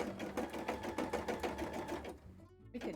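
Embroidery machine stitching a cosplay piece in yellow thread, a fast steady mechanical chatter that runs for about two seconds, then stops abruptly and falls quiet before a faint clunk.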